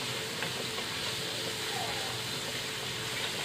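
Garlic frying in a pan with a spoonful of vinegar added, giving a steady, even hiss and sizzle that stays constant at a moderate level throughout.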